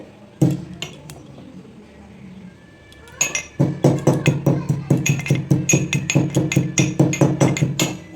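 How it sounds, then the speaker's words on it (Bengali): Dry-roasted cumin seeds are pounded in a metal mortar and pestle, first a few scattered knocks, then a fast, steady run of sharp, ringing clinks close up with faint speech. "জিরে ভেজে নিয়েছি হামল দিস্তায় গুঁড়ো করে নেবো"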